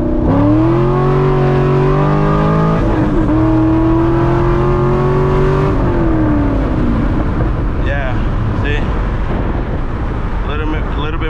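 A 500 hp C6 Corvette accelerates hard with traction control off, its engine note climbing through the gears in loud rising sweeps, then giving way to a rough, roaring rush of road and wind noise.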